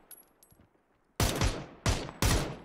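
Three loud, sharp gunshots in PUBG on the Miramar map, spaced irregularly after a quiet stretch of faint background noise, each with a short decaying tail.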